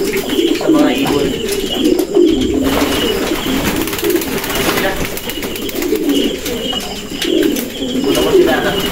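Pigeons coo steadily among the stockbreeder birds, soft low warbling calls repeating throughout, with a voice talking over them and wingbeats or movement now and then.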